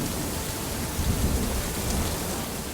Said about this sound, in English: when it really rains in South Sudan, it pours.